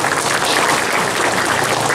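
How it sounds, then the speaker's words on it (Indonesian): At a Sunday morning religious gathering, an audience applauds Pak Samad. Thick, continuous clapping runs loud and steady from start to finish, with no voices over it. "Tepuk tangan untuk Pak Samad."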